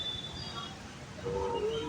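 Low rumbling of a metro train in motion with steady rolling noise, a faint whine rising near the end.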